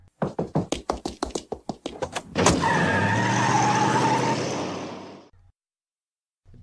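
A car pulls away: a rapid series of about a dozen sharp knocks or thumps, then a loud sustained engine roar with tyre skid noise lasting a few seconds before cutting off, heard close with no talking.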